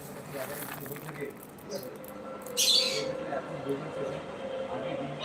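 A large pet bird in a shop gives one brief, harsh squawk amid a faint indoor murmur, with a person talking quietly nearby.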